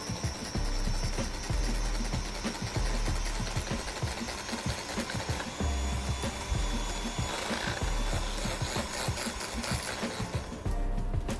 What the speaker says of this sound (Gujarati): મશીનથી પ્રોપર whip કરો.